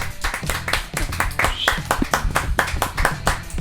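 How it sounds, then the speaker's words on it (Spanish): An audience at a Spanish-language talk on prayer claps in a close, lively burst of sharp, rhythmic handclaps, with voices mixed in among the hands. "Un aplauso para el segundo programa"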